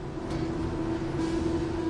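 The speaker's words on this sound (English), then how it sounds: "The body in white is loaded onto an overhead train that carries it to the paint area." An overhead conveyor train carries a car body in white to the paint area in an electric car factory, giving a steady low mechanical hum with a faint rumble.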